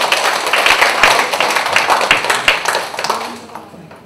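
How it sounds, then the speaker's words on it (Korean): An audience claps loudly to welcome a lecturer arriving to teach a session on budget and financial accounting rules, a dense burst of applause that fades out toward the end. "큰 박수로 맞이하도록 하겠습니다."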